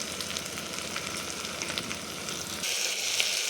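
Spices, biryani masala and salt for veg biryani fry with a steady, close sizzle in a pan while being stirred, and the hiss brightens toward the end. No voices are heard.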